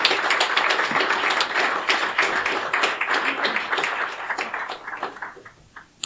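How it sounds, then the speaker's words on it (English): Audience at a panel discussion on Russia's war on Ukraine gives a dense round of clapping that holds steady, then thins and fades near the end, with no voices over it. "So a big applause for Jörn."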